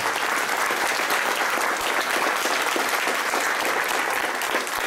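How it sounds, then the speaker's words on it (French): Dense, sustained applause from a theatre audience at a stage show, steady and loud throughout with no voice on top. "On l'applaudit bien fort."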